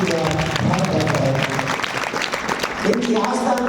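Devotees at an overnight religious jagran gathering in India clap together, the rhythmic claps blending with voices and singing.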